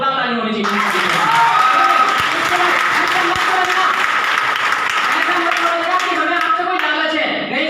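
Audience clapping at a Hindi-language closing talk, a loud sustained round of applause that fills the room, with the speaker's voice and tones heard at the start and end.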